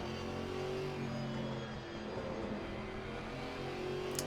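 GT4 race cars, a Mercedes and a Porsche, roar around the Spa-Francorchamps circuit in Assetto Corsa Competizione, a steady dense engine drone close by with layered revs and no talk.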